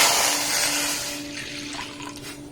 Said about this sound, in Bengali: এই 2 কাপ লিকুইড দুধ এখানে আমি দিয়ে দিলাম।